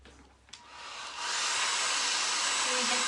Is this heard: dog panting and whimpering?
no